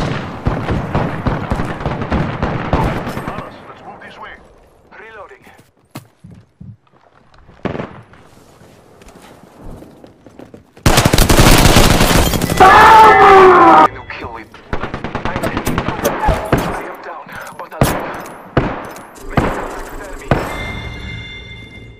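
Gunfire in Apex Legends comes in scattered single shots and bursts, with one long, loud, sustained barrage in the middle. Several voices talk at times between the shooting.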